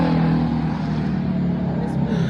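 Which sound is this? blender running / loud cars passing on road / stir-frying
loud cars passing on road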